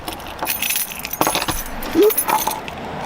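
Smith & Wesson handcuffs handled up close, with bright metallic clinks and rattles in irregular bursts, fairly loud and alone.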